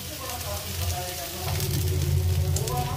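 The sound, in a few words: frying turmeric and spices in a pan for pumpkin curry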